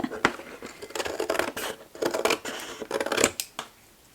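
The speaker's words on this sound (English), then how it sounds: "I'm just going to snip this little guy off too." Scissors snip through a flap of a cardboard box in a series of crisp, close cuts with scraping rustles between them, uneven in rhythm and heard alone.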